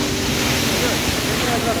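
A shower runs at very high pressure, a loud continuous broadband hiss of spraying water filling the whole moment without a break.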